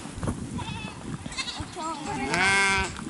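Sheep and goats in a Gobi Desert herd bleat several times, close and overlapping with a loud wavering call near the end, while people talk in the background.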